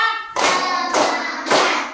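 Students clapping in unison in a classroom ice-breaking game, three sharp group claps spaced about half a second apart, each with a short ringing tail, after a brief spoken count.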